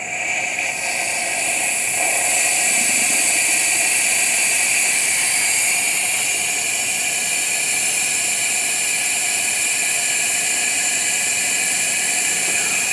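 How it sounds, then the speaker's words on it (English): A venturi vacuum extractor pulls warm engine oil from a 2012 VW Touareg, giving a steady, loud hissing rush with a high whine that holds constant throughout, with no talking. "there's a venturi down here somewhere that should pull a vacuum in this cylinder that should extract the oil from the engine"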